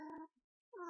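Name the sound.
cat meowing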